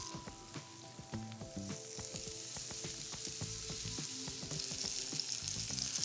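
Scallops searing in a hot sauté pan give a continuous soft crackling sizzle, fairly quiet and steady, with small pops and a light scrape as they are flipped.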